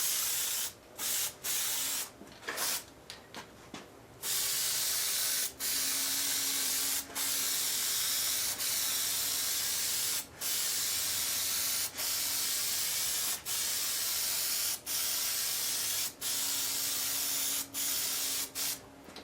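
Spray adhesive sprays onto seat foam in long hissing bursts separated by short pauses, fairly close and steady, with no talking.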